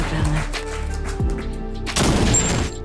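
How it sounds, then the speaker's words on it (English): Gunshot sound effects in a live online show, a series of loud close bursts of gunfire, some rapid and overlapping like a fusillade, with heavier blasts near the middle and end. "My gunshot was quiet today."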